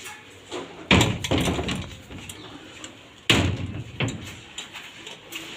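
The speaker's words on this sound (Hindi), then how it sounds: "दरवाजा बंद कर देते हैं।" A door being shut by someone stepping outside on Holi day in India, giving a couple of loud bangs and clatters with a rattling tail, set against faint outdoor background noise.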